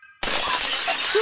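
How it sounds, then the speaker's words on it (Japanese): Glass bursts apart on its own as a comic sound effect, a sudden loud shattering crash after a brief near-silence, with the crunching spray of breaking shards filling the rest of the second. "ガラスが勝手に割れたぞ。"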